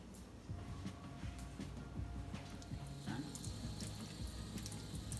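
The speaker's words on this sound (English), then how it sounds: "So we're rinsing with cool water, layer by layer, and this top portion is holding everything together as we're rinsing this leek" Cool tap water runs steadily over a split leek being rinsed layer by layer during food prep, a continuous faint splashing wash with small irregular drips and spatters, no voices.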